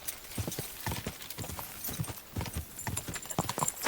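Steady clip-clop of horse hooves at a walking pace, crisp and close, with no voices, in Kingdom Come: Deliverance.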